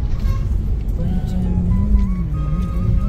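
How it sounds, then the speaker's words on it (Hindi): A car pulls into a crowded parking lot at a Neem Karoli Baba temple visit, its engine a steady low rumble close by, with a faint tonal whine rising and falling over the drone and no speech. "ये देखो अब घुस गई पार्किंग में गाड़ी"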